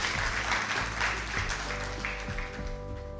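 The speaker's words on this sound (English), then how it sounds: "Hand clap for President Ruto." An audience at a question-and-answer event clapping for President Ruto, a dense, sustained round of applause with murmuring underneath and tonal hum running through it.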